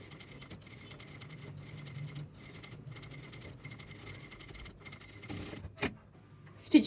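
A sewing machine stitches a hairline seam in steady, fast rhythmic bursts separated by short pauses, fairly quiet and close, ending with a couple of handling clicks.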